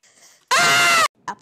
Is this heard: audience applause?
no